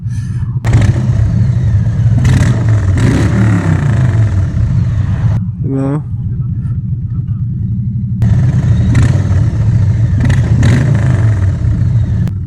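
A Harley-Davidson motorcycle engine revs loudly and close by, its deep, throbbing rumble rising and falling through several throttle blips, with a single short spoken word partway through.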